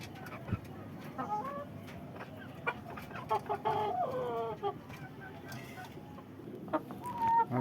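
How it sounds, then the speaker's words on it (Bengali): A Pakistani-breed rooster clucks and gives short calls in scattered bursts, fairly close, among other chickens. A person talks quietly underneath. "আরে দেখছে পাকিস্তানি মোরগ, গলা ছিল মোরগ এটা।"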